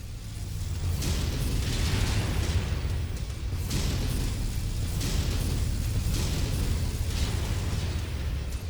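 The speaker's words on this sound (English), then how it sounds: "Incoming missile." Heavy, booming explosions from a missile strike in MechWarrior 5: Mercenaries roll in a loud, sustained wash, with repeated blasts thudding every second or so and no talk over them.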